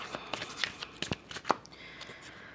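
Tarot cards are shuffled and handled while the last card is drawn, giving a few quick, soft riffling flicks and slaps up close with no talking.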